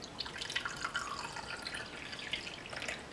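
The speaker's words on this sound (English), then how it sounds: "Put some water in here." Water poured into a container holding celery stalks in a shed: a faint, steady splashing trickle with light bubbly drips, continuous and close, with no talk.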